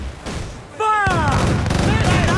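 Cannons fire a broadside from a sailing ship in Assassin's Creed Black Flag: after a quieter moment, a sudden loud burst of booms rolls on continuously while crew voices and rising effects sound above it.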